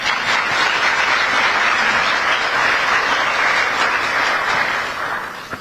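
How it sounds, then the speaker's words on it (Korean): A crowd at a gathering of Korean nationals in the Philippines gives a round of applause of thanks, a loud, dense, continuous clatter of many hands that holds steady before tapering slightly at the end. "감사의 박수 한번 보내드리시죠"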